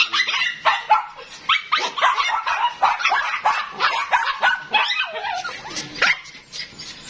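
Several dogs and puppies bark, yip and whimper in close quick bursts while being fed eggs, loud and near, with hardly a pause.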